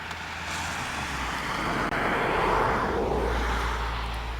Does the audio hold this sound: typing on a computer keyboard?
no